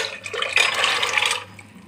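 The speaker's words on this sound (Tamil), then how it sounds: "அதனால் இந்த தண்ணியோடய ஆட் பண்ணுறேன்" Soaking water from chickpeas poured into a pan in a short gush lasting about a second, splashing close by, then tapering off.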